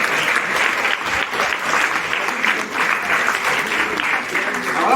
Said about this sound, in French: un petit peu d'applaudissements.